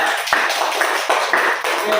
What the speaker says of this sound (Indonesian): Tepuk tangan buat Niara.